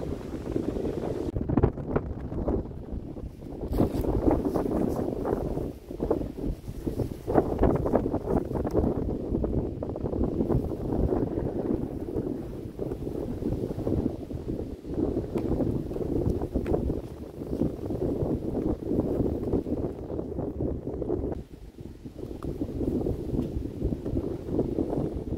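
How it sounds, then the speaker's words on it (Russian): Strong, gusty wind roars and buffets the microphone on an October walk with a dog, a dense low rumble that surges and dips in waves throughout, with no talking. "Ветер просто неимоверно сильный, порывистый."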